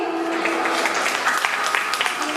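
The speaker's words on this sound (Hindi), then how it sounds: "जोरदार तालियां हमारे इन अतिथिगणों के लिए" Loud, sustained applause from a school audience welcoming guests at an Independence Day celebration, a dense continuous wash of clapping throughout, with some voices mixed in.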